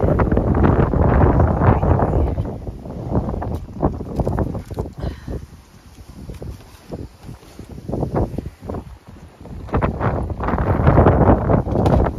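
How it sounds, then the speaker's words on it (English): Strong gusting wind buffets the microphone on a cul-de-sac, roaring in waves that rise and ease across the whole stretch, with no talking. "we know how windy it gets on our cul-de-sac"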